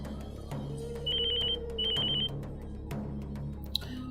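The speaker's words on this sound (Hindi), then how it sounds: "तुम्हारी बीवी फोन पर फोन कर रही है।" A telephone rings for an incoming call, two short bursts of electronic trilling separated by a brief pause, clear and fairly close over a low room hum with no talking.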